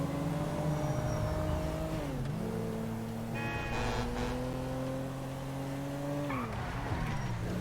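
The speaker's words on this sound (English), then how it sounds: "Almost got destroyed by that truck." Engine drone of a truck driving past in GTA V, a steady low hum whose pitch shifts and drops as it goes by, sustained and fairly close, with no talk.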